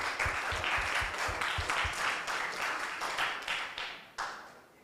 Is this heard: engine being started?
no